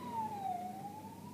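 A police siren wails faintly in the distance near a fire station, one slow rising and falling tone over a low background hum.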